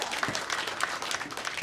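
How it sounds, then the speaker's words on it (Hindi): Crowd applause at an Independence Day celebration on 15 August, dense continuous clapping from many hands for under two seconds, fairly loud and even. "तेज़ी के साथ आवाज़ आनी चाहिए आपकी तालियों की"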